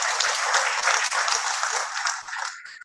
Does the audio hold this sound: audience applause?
yes